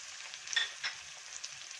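Sliced onions and cumin seeds fry in a pan with a faint, soft sizzle and a few brief brighter crackles, heard quietly on their own without speech.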